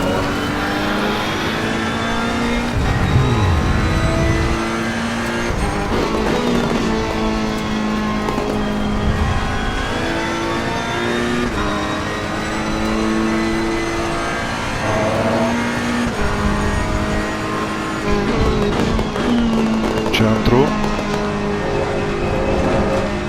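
A Ferrari GT3 lapping Spa in Assetto Corsa Competizione howls loudly, revving up through the gears and dropping on downshifts, with brief tire squeal and other cars around.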